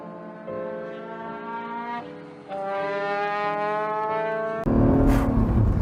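A new NSX sports car engine idling then revving in rising harmonic steps, strong and close, before a louder, rougher surge of acceleration at the end.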